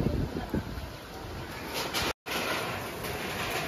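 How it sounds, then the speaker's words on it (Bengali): Gusty Kalbaishakhi (nor'wester) storm wind roars and buffets close by, with a brief cutout of sound midway before the blustery rush resumes. "বাজেভাবে ঝড়টা হচ্ছে।"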